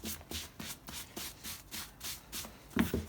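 Leather conditioner is rubbed into the repaired toe of a dog-chewed leather boot, a soft rhythmic brushing and rubbing repeated in steady strokes, close and quiet with no talking.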